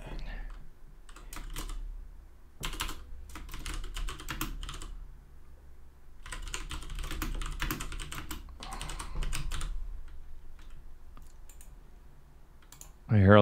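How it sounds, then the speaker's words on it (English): Someone types on a computer keyboard in bursts of close, crisp key clicks, with pauses between runs, over a quiet room background and a brief louder thump at the end. "I hear a lot of typing."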